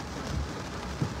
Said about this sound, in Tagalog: Ngayon, ulan din.